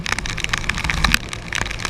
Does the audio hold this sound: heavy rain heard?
yes